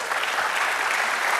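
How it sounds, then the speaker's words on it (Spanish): A church congregation claps for the Lord during a worship service, a dense, steady burst of applause filling the room throughout, with no distinct voices above it. "Dale el aplauso al Señor"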